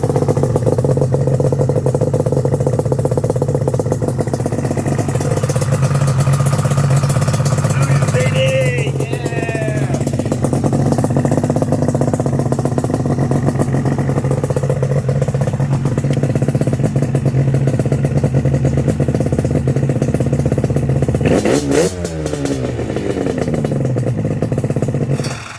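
A two-stroke Yamaha Banshee engine runs at a steady, buzzing idle on its first start, loud and close throughout, with brief clattering and faint mechanical noises partway through.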